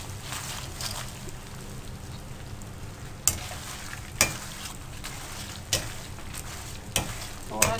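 Besan dahi bhalla batter frying in hot oil with the flame switched off, a steady close sizzle broken by a few sharp crackles and pops spaced a second or so apart.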